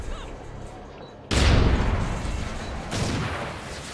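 Grenades burst in an online multiplayer shooter, two heavy booming blasts about a second and a half apart, each with a long rumbling decay over a low background.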